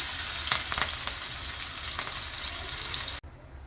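Green chillies sizzle with cumin seeds in hot oil in a cooking pot for rava medu vada, a steady close crackling fry with a few sharper pops, cutting off abruptly near the end.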